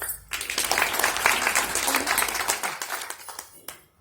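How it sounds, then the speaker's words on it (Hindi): An audience at an RCM meeting claps and applauds steadily for several seconds, a dense patter of many hands, then it tapers off and stops. "एक बार हाथ खड़ा करेंगे। ताली बजा।"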